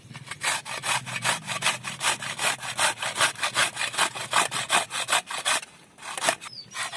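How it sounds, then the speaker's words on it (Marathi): Dried coconut grated finely for Marathi milk kheer, a steady rhythmic back-and-forth scraping with dozens of quick strokes, loud and close, slowing briefly near the end. "आता हे खोबरं बारीक किसून घ्यायचं आहे"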